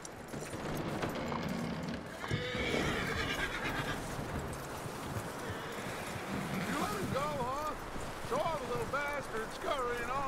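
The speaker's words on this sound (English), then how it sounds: "That looks like a decent horse." Horses whinny and neigh repeatedly in the Red Dead Redemption 2 video game, shrill calls rising and falling over a busy background with hoof clatter, while someone talks throughout.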